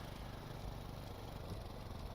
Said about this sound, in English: in third gear and the engine sounds like this